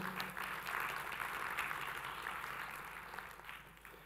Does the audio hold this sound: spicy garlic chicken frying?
no